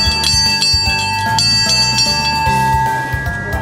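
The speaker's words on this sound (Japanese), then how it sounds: "幸せの鐘が鳴ります" A happiness bell is rung at the goal of a giant outdoor maze, sounding as a steady run of bright, ringing metallic strikes with lingering tones throughout.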